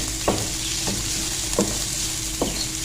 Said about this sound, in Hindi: और हमने इसको भी थोड़ा सा सौते कर लें।